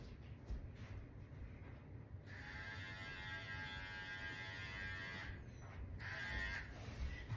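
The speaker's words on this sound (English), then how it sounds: "my clippers for my dog are beeping" Electric dog hair clippers give off a high, steady electronic beep-tone, sounding in two stretches with a short gap between them over a quiet indoor room hum, with nobody speaking.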